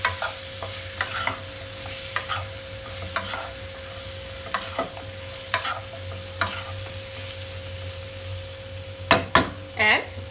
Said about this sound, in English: And let them fry again.